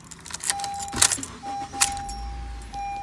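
Keys jangle in a sharp burst as someone climbs into a cheap used car, a steady electronic chime tone sounds, and then a low engine rumble starts up near the end.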